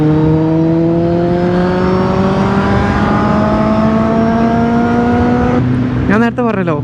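A new motorcycle's exhaust drones steadily as throttle is held on an open road during a long ride from Bangalore, its pitch slowly rising, with a brief shift in tone near the end.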